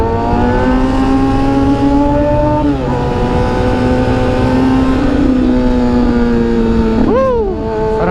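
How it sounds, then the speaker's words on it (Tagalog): A Kawasaki ZX6R motorcycle engine hums steadily and loud while riding, its pitch shifting up and down as it revs, with a quick rising whine near the end. "Sarap talaga magmotor no guys."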